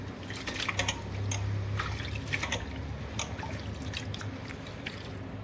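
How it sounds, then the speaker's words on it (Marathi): Moth beans and mung lentils washed in water, with soft close dripping, trickling and sloshing that carries on steadily. "या सर्व डाळी आपण चांगलं स्वच्छ धुवून 2-3 पाण्याने धुवून टाकायचं त्यांना चांगलं"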